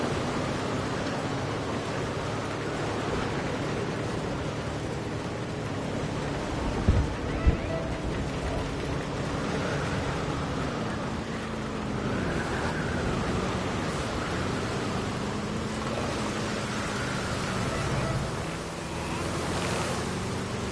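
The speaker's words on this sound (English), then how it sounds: "Yep. Got another storm." Stormy weather in Jurassic World Evolution 2: a steady, loud wash of rain and gusting wind fills the whole stretch without a break, with a couple of brief low thumps partway through.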